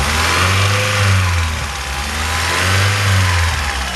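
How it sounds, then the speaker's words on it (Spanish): A Chevrolet Zafira engine with a blown head gasket revs up twice, rising and falling in pitch, loud and close with no talking over it. "Ahora voy a acelerarlo de aquí para ver si el carro falla o no."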